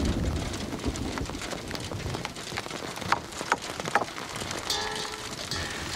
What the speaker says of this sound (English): That's a hail.